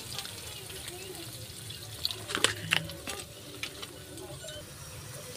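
Water poured into a pan of cooking pancit bihon, a soft splash and sizzle amid low stirring noise, faint and close, with a couple of sharper clinks.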